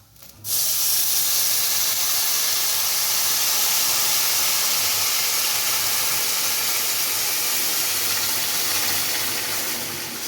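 Boiled water is poured into a pot of moong dal khichuri, a loud steady hissing rush that begins abruptly and continues close and unbroken for about ten seconds.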